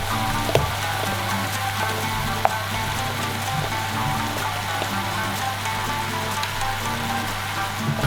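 A steady hiss and crackle of eggplant sizzling in a hot pan, continuous and even, with a low hum beneath and no talking.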